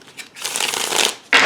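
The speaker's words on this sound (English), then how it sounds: "I did a lot of shuffling." Tarot cards being shuffled during a love reading, a dense papery riffle that swells and holds for about a second, then a brief louder burst of cards at the end.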